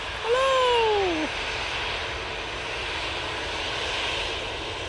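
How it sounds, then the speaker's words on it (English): Jet engines of a Jet2 Airbus A321 at an airport, a broad steady roar with a rising-then-falling whine near the start, heard from a moderate distance with no talking. "There's a Jet2 coming on and I want to say hello to the pilots."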